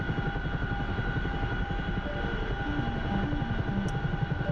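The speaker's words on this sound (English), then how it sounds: "the Chinook's still really loud" Chinook helicopter rotor noise, a loud, close, continuous rhythmic thrum with a steady tonal whine and a dense low chop throughout, with no talking.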